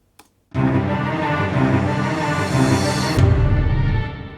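A swelling reversed crash cymbal washes in, building steadily with reverb for a few seconds before cutting off abruptly, leaving a low rumbling tail.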